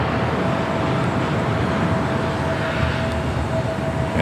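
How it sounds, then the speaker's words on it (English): A Delta Boeing 737-900ER jet at LAX, arriving from Minneapolis, produces a steady, loud broadband roar with no break, like engine noise passing or taxiing fairly close. "It's a 737 900ER coming from Minneapolis"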